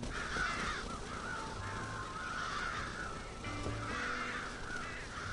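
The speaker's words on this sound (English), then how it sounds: "Damn crows!" Crows caw repeatedly in a steady series of harsh calls within the Red Dead Redemption video game, set against a constant bed of ambient game background noise.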